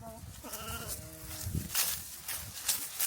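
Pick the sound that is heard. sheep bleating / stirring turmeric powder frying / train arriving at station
sheep bleating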